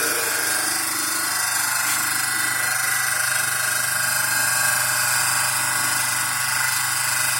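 A single-phase induction motor on a lab test bench, running with no load, a steady continuous whirring hum with a high-pitched whine, close and unbroken throughout.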